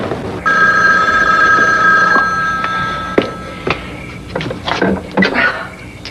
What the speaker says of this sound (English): Answer the bleeding phone.